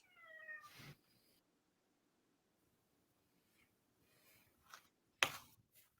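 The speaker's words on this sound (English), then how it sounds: "I hear a cat." A cat lets out one clear, drawn-out meow at the start. Near silence follows, broken only by faint rustling and a couple of soft clicks near the end.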